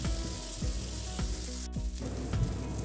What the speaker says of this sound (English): when the pan is hot enough, place the marinated broccoli florets arranged in the skewers